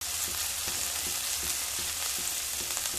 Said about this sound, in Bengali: খুব ভালোভাবে মিশিয়ে নিয়ে কয়েক সেকেন্ড একটু ভেজে নেব